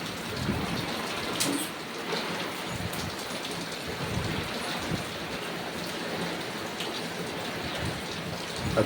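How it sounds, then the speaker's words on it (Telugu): Heavy rain pours steadily outside a house, a dense even hiss of drops on surfaces with no break, fairly close and steady in level. "చాలా పెద్ద వర్షం పడుతుంది"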